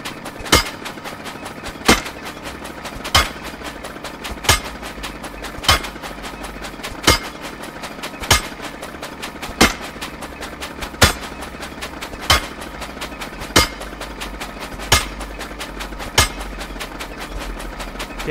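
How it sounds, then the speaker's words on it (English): Hammer strikes in the video game Ylands land one after another at a slow, even pace, each a sharp crack. They repeat steadily over low background noise. "let's start hammering"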